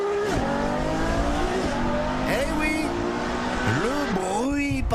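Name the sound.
Ferrari sports car engine roaring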